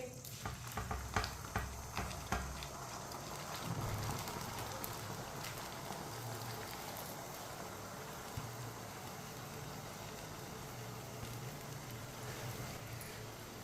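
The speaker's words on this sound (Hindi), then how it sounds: "चावल डाल के मिक्स कर लेंगे।" Boiled rice being stirred into hot sugar syrup for sweet zarda rice, a steady soft sizzling and scraping stir that continues evenly and close by, with no talking.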